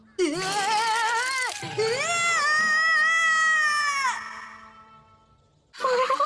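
A cat in a Naruto Shippuden anime episode, Hindi dubbed, lets out long, drawn-out yowling meows, loud and close, one after another with a brief pause, then a final cry starting at the end.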